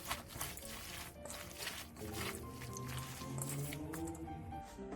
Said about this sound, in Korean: 당근도 마찬가지로 양념장과 통깨를 넣고 골고루 버무려주세요.